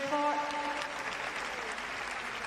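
A stadium crowd at the Paris 2023 Para Athletics World Championships applauds an athlete, a dense, sustained wash of clapping with a voice briefly heard over it.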